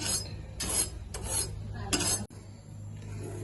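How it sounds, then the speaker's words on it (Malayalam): A spoon scrapes through pink caramel vermicelli payasam in a cooking pan, making four rhythmic rasping strokes close up, followed by a quieter stretch with no talking. "ഇത് നമുക്കിത് മെല്ലെ ഒന്ന് മിക്സ് ചെയ്ത് കൊടുക്കട്ടോ."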